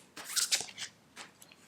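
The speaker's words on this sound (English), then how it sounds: "I'll just take one more card for clarification." Quick papery tarot card shuffling and a card slid from the deck, a few crisp close rustles then quieter flicks.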